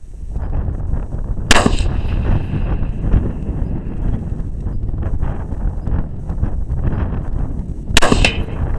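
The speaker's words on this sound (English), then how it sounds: "Five shots at a target we got out there, metal target, about 100 yards." Two sharp, loud gunshots about six seconds apart, fired outdoors at a metal target roughly 100 yards away, over gusty wind noise on the microphone.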